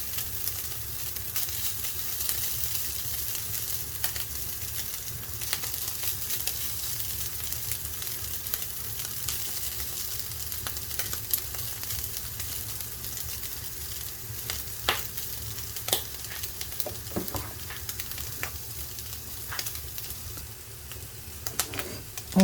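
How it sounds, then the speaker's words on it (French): Shredded pulled beef fries in a pan, giving a steady, close sizzle that runs the whole time, with faint bird coos in the background. "Dans la même poêle, je dépose mon effiloché de bœuf."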